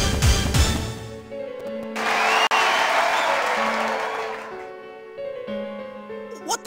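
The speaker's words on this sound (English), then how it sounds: "Where did that clapping come from?" Applause-like clapping in the Persona 4 video game, a sustained burst of many hands at moderate loudness over soft game music, rising after a short lead-in and fading toward the end.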